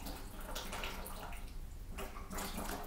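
Water drains from the nose during a jala neti nasal rinse, a steady close splashing trickle that runs continuously with brief swells.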